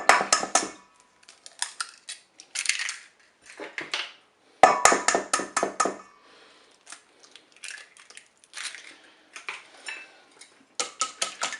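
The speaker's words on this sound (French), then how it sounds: "Je vais ajouter les œufs." Eggs go into a Cookeo pot for a potato salad meal, making bursts of sharp cracking, crunching and clattering against the pot, separated by short quiet gaps, close and fairly loud.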